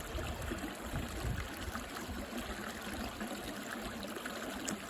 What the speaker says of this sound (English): In case you like to hear bubbling brooks. Rapidly bubbling.